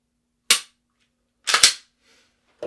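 Pistol shots fired at targets around an indoor room: three sharp, loud reports, a single shot, then a quick double, then another starting at the end, each cracking alone with brief decay in a quiet space.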